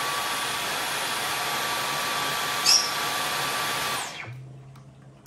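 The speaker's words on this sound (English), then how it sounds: "the dust that is being sucked up into the vacuum cleaner" A Dyson V15 cordless vacuum cleaner runs with a loud, steady whine and airy rush, then switches off and winds down, leaving a faint low hum.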